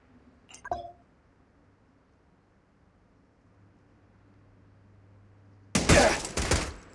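A burst of rapid gunfire in Zenless Zone Zero comes near the end as a short loud volley, after a faint metallic click early on and a low steady hum in between.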